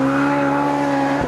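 A Ferrari 458 Speciale race car at a steady high-revving engine drone, with a brief break near the end as a quick gear change cuts in.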